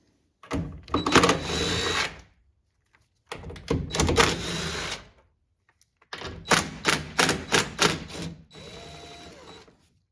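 Nuts being unscrewed from a 2007-2013 Toyota Tundra outer door mirror, heard as three separate bursts of close whirring tool noise with short silent gaps between them.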